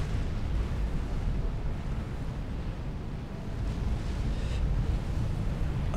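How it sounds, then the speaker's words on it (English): A big explosion in the real-time strategy game Supreme Commander: Forged Alliance comes through as a heavy, sustained low rumble, loud and dense throughout, without talk. "Whoa, big explosion there."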